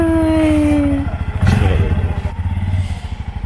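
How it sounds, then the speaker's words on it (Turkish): A motorcycle passes close by on a road. Its engine hum rises and then fades, with some rattling and clatter under it. "Motorcu."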